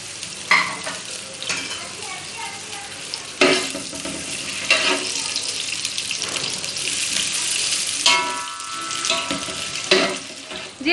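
Half an onion frying in a pan until golden brown, a steady sizzle with stirring and scraping bursts, plus intermittent running tap water nearby.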